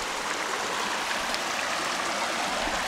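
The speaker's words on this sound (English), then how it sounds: "Here at this, well, very little waterfall" A small waterfall rushes in a steady, unbroken wash of splashing water, close and continuous throughout with no pauses.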